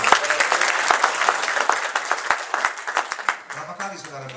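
Applause fills a Pentecostal Sunday worship service: dense, steady clapping from a congregation, loud and continuous at first, then thinning into scattered individual claps toward the end.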